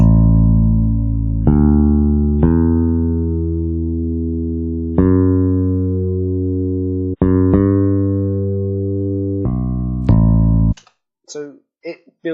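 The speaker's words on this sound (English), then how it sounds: "I've got bass 2, which is the hook bass, which plays the same notes but in a different formation." Hook bass line for a hip-hop beat made in FL Studio plays back as a string of about eight sustained, deep notes that each start sharply and fade, then a few brief tones and quiet at the end.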